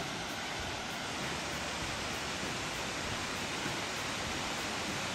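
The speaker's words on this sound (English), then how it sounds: "That is a beautiful waterfall." A steady, dense roar of rushing water fills the whole clip without change, Laurel Falls on the Foothills Trail heard from nearby.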